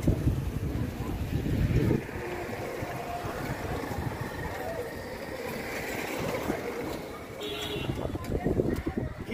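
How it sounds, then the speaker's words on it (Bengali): Strong wind sweeps across a lakeside at night in Demra, buffeting the microphone with a continuous, gusty rumble that surges loudest at the start and near the end. "ওয়াও কি বাতাস"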